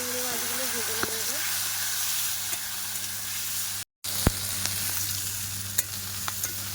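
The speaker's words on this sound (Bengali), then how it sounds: "চিংড়ি মাছগুলো ভেজে নেব।" Shrimp frying in hot oil in a wok, a steady loud close sizzle and hiss throughout, with a brief dropout near the middle and a few light clinks.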